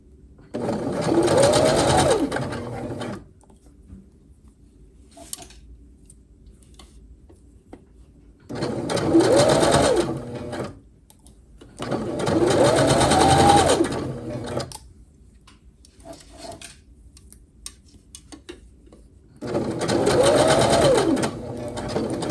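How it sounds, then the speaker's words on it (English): A sewing machine stitches a sleeve of a sweat top in four separate bursts of steady whirring of a few seconds each, with quiet pauses and small clicks between them. "let's go to the machine, do a base stitch"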